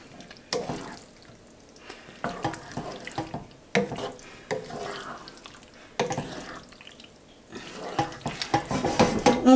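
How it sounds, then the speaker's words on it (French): A spoon stirring picadillo with small olives and capers in a pot just taken off the heat, giving a series of wet, scraping strokes in uneven bursts that grow busier toward the end, close by and without talk. "on va mélanger"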